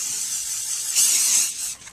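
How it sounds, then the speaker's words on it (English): An aerosol spray can hisses in a steady burst, swelling louder for a moment before cutting off. "And we're going to spray this."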